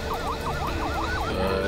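A fire truck siren on a disinfectant-spraying convoy wails in a steady, repeating up-and-down sweep over heavy traffic and engine rumble, loud and continuous throughout.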